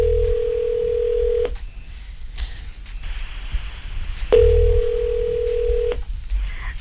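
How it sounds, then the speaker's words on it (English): A telephone call is dialed: a steady dial tone drones, breaks for a series of short key-tone beeps, then returns and cuts off again, loud and close over a low background rumble. "let's get her on the phone right now"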